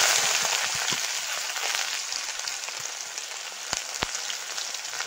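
Chopped onion frying in hot oil left from frying eggs, a steady close sizzle and crackle with a few sharp pops throughout, no talking.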